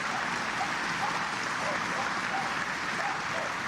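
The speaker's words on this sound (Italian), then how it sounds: "Al suo arrivo il feretro è accolto da un applauso" Applause from a large crowd of mourners greets the coffin's arrival at a funeral, a steady dense wash of clapping that continues unbroken throughout, heard from a distance.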